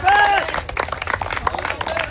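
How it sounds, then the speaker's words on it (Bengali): A village game crowd claps in a loose, busy patter, with lively babble and a voice calling out over the applause. "সবাই একটা জোরে তালি হবে"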